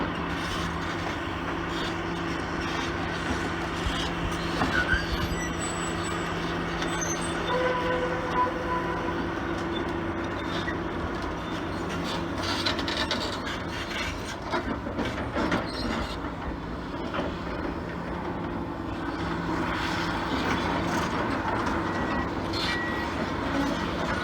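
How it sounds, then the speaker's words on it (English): A Komatsu PC400 LC excavator crawls up loose dirt while demolishing a bridge, producing a continuous heavy engine rumble with squealing, clanking track and metal sounds at steady loudness. "this machine crawls up onto a more stable surface and actually uses the teeth on the bucket to help"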